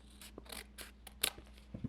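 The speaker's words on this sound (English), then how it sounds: "Okay, take your scissors" Several quick snips of scissors cutting through a stiff paper plate, close and crisp, in short uneven bursts with brief pauses between them.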